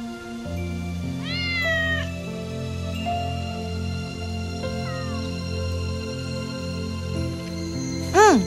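A pet cat meows several times in a row, with long rising and falling cries that stand out clearly over a steady low hum, and a final sharp, louder meow comes at the end.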